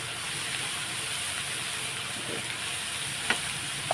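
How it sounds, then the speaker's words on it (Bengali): Sliced onions fry with salt in a pan, giving a continuous moderate sizzle with a couple of faint spoon clicks near the end and no speech. "নুনটা দিয়ে দিলাম তাহলে মজে যাবে তাড়াতাড়ি লাল লাল করে ভেজে নেব"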